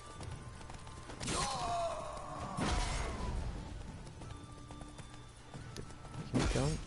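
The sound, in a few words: horses' hooves clip-clopping in The Witcher 3 video game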